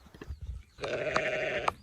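A lamb on Fair Isle lets out a long, loud wavering bleat close by, after some soft shuffling and knocking, with a few clicks over the call.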